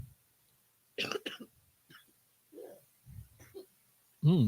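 A close, wet cough burst, as if bringing something up, with a second hack right after, followed by muffled movement and a short vocal sound at the end.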